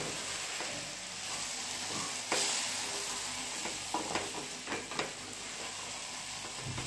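Sweet potato fries in ghee in a pan over low gas, giving a steady, close sizzle with occasional soft scrapes and taps from stirring.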